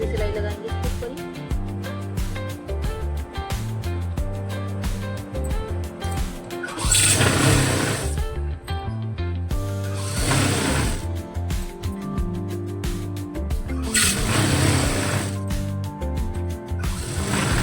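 Sewing machine stitching a plazo (palazzo trousers), running in steady mechanical bursts with a few louder surges, close and alone with no talking.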